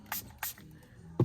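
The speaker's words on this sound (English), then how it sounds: "Try spraying some solution on it." Cleaning solution is sprayed onto a screen protector in two short, close hissing bursts, followed by a soft knock.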